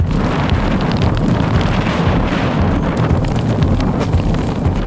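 Strong, steady wind roars across the microphone in southern Patagonia, Argentina, a loud continuous buffeting rumble with no voices.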